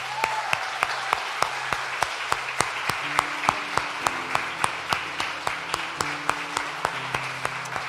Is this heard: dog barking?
no